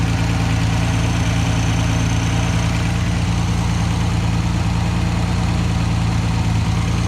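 Car engine with a Lucas generator fitted idling steadily nearby, a continuous low rumble with even vibration throughout and no voices.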